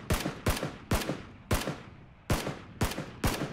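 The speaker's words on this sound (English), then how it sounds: "they're gonna shoot me right now" Seven sharp, evenly spaced gunshots in PlayerUnknown's Battlegrounds ring out one after another, each cracking loudly and then decaying, with no talk over them.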